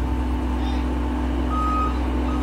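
A truck backs up slowly with its reversing alarm giving steady electronic beeps over a constant low engine rumble, while a voice calls out directions nearby.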